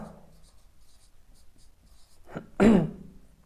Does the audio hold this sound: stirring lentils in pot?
no